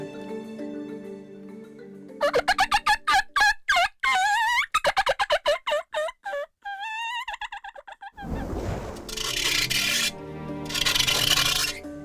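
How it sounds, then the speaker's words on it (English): A handheld predator mouth call gives a rapid series of wavering, squealing blasts, then a harsh raspy rubbing noise follows, loud and close. "this is a mouth call that's essentially made to lure predator creatures"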